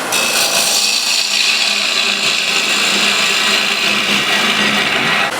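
A wood lathe turning a spinning piece of wood while a tool cuts into it, a loud, continuous, close-up hissing and grinding rasp that holds steady throughout.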